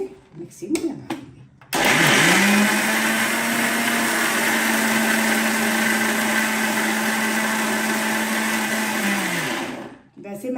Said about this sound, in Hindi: अब मैं इसको इस तरह से मिक्सी में लगा दूंगी।